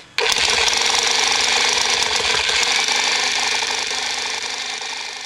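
A rapid, loud hammering rattle starts abruptly as a hammer tool drives a grounding rod into the earth, then continues steady and close for several seconds before easing slightly, with no speech.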